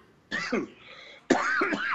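Two harsh coughs, close by, with a short raspy pause between them, the second louder and more drawn out.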